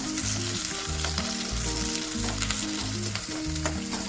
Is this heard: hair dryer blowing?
no